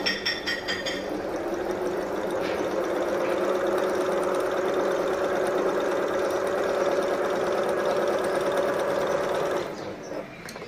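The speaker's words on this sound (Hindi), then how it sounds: "अभी हम इस पर करते हैं सादा सिलाई" A Japanese sewing machine sews a plain straight stitch, a steady close whirring hum with fast rhythmic ticking that runs continuously for about ten seconds before easing off, with no talking over it.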